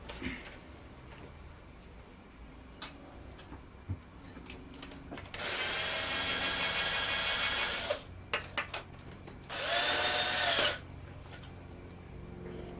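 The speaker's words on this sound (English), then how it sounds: "Hole cutter. Hole cutter. Drill. Drill." Two loud bursts of a drill with a hole cutter grinding through a filter box, each lasting a couple of seconds, amid scattered knocks and handling noises.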